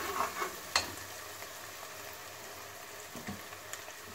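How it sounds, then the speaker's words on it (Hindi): Masala frying in a pan for a restaurant-style aloo gobhi salan, a steady soft sizzle with a few brief louder crackles and stirring knocks, close by with no talking. "तो कोशिश करेंगे मसाले को अच्छी तरह भूनें।"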